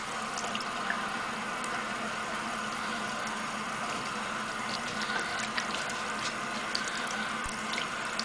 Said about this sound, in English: and then just swirl the brush in there.